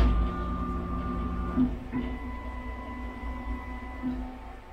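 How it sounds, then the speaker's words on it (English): A laser cutter bed lowers to autofocus on the workpiece surface, giving a steady, faint motor whine with tonal hum that shifts pitch partway through, close and alone. "the bed's going to move down and find the surface"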